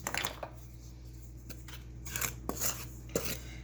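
Plain muffin batter being mixed by hand in a bowl, with quiet scraping, soft squelches and occasional clinks of utensil on bowl, close and faint.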